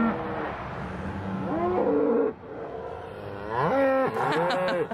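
Several cattle moo in long, drawn-out calls, one after another, loud and close, over a low background rumble.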